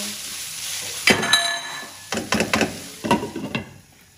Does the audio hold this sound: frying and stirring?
yes